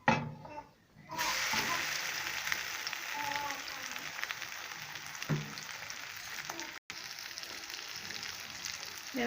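An egg omelette frying in oil in a pan gives a steady, close sizzle and crackle that runs almost throughout, with a short quieter dip near the start.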